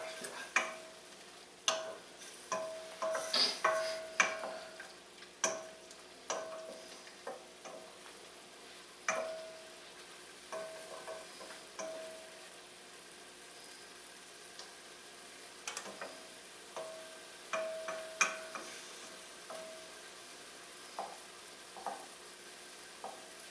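Green beans with mushrooms frying in a pan for a holiday side dish, a steady soft sizzle under repeated clicking scrapes of a utensil stirring at irregular intervals, close and fairly quiet, no voices.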